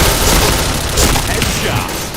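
Grenade blast in the Point Blank shooter game, a dense loud boom with debris-like crackle spread over a couple of seconds, amid ongoing gunfire and a busy battle mix.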